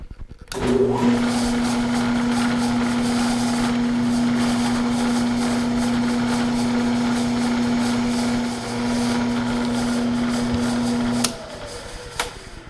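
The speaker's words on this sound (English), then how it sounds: "now we're going to drill this. I'm using a 1/4-inch drill" A 1/4-inch drill grinds steadily through a metal ball for about ten seconds, a loud sustained whine with a constant pitch, then cuts off abruptly.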